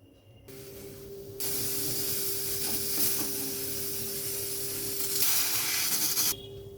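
Steam hissing loudly and steadily from a pressure cooker boiling matar dal with water, a strong broadband rush that swells midway and cuts off near the end, with a faint tonal whine beneath.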